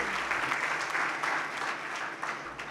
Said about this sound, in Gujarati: બંને દાતાને જોરદાર તાળીથી વધાવી